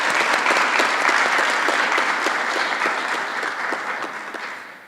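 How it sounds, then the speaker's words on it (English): An audience at a school honours evening applauds the learners, sustained clapping from many hands that slowly fades toward the end. "A round of applause again for our learners."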